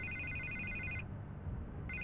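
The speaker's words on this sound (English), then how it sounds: "And I can't get the phone to stop ringing." A telephone in Batman: The Telltale Series rings with a bright electronic warble, two bursts separated by a short gap, over a low game soundtrack hum with no talk.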